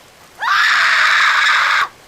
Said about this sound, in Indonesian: Dia lantas menjerit sekencang-kencangnya